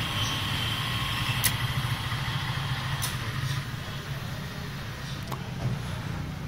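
A single-phase pump motor run by a GSM starter hums steadily at a low pitch, with a few faint clicks, and holds a constant level throughout.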